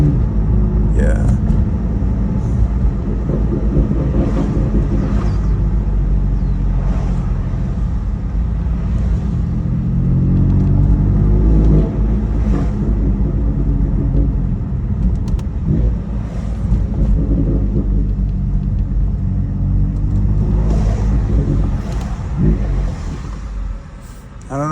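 A BMW M4 Competition drives along the Pacific Coast Highway, its steady engine rumble and road noise continuous and close throughout, with brief swells as it picks up speed and occasional talk from the driver over it.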